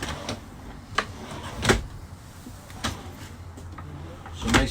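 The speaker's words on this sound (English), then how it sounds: "Nice drawers, they're all soft close." Soft-close drawers in a 2020 Leisure Unity 24RL motorhome, opened and shut several times: soft thumps and short rolling slides, evenly spaced and close in a quiet interior.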